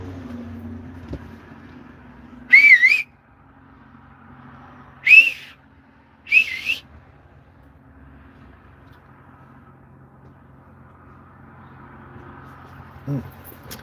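Three sharp, rising-and-falling human whistles calling a dog ring out in separate bursts over a quiet outdoor background with low steady hum.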